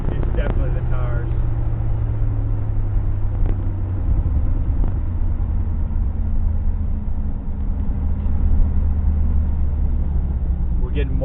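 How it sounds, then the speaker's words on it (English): A 1989 Corvette roadster cruising with a steady low road rumble and drone, the rear tires adding a vibration that holds level throughout, with a voice heard speaking over it. "the vibrations coming from the rear end now. It's definitely the tires."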